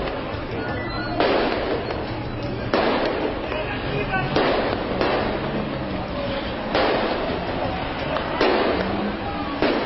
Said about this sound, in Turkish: Sonra da havai fişekleri ateşlediler.